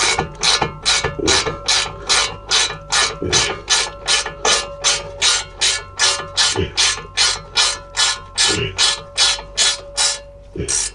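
Ratchet wrench tightening the front shock absorber on a Volkswagen Touran, a long run of evenly spaced, loud clicking strokes in a steady back-and-forth rhythm.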